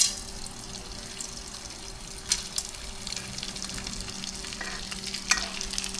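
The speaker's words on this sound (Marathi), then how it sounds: "तर आपण डिंक तळून घेऊ छान।" Edible gum (dink) fries in hot ghee with a constant soft bubbling sizzle, broken by a few sharp clicks and stirring knocks, with a low steady hum beneath.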